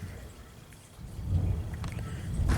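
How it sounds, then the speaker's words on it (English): Thunder rolls during an October thunderstorm: a low, distant rumble swells after the first second and stays in the background, with faint rain noise. "If you guys heard that thunder, yeah, it's still freaking thunderstorming."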